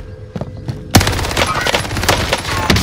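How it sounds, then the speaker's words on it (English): Rapid automatic gunfire in the video game Call of Duty Warzone Pacific, a loud sustained burst of shots with scattered impacts, starting abruptly after a second of quieter game noise, with a player talking faintly in the mix. "I got the guy shooting me in the back"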